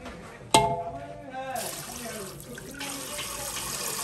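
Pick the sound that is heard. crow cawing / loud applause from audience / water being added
water being added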